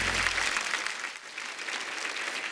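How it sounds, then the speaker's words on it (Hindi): A television studio audience on a comedy show claps in a burst of loud, dense applause that holds steady and then tapers slightly toward the end. "एक बार लेरी साहब के लिए जोरदार तालियां हो जाए"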